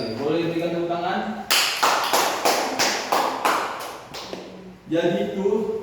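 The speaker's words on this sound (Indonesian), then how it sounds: "Boleh berikan tepuk tangan." Students clapping in a classroom, a burst of applause with rhythmic group claps in about six pulses, loud and close, framed by a teacher speaking before and after.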